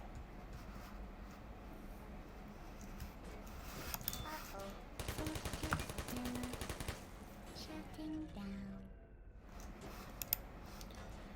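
Turrets firing guns in the video game Chronos Project, a rapid mechanical stream of automatic shots rising to a loud sustained burst in the middle, set over a constant background hum with a few electronic tones.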